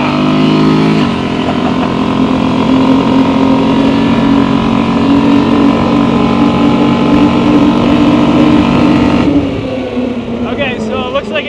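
A 2025 Honda Rubicon 700 ATV drifts under a steady, loud engine drone that holds at high revs, then eases off near the end.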